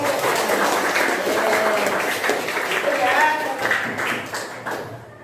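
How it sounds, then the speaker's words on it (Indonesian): A class of schoolchildren in an Islamic religious lesson claps for themselves in a dense, lively burst that fades toward the end, with a voice speaking briefly over it. "Iya, tepuk tangan untuk kita."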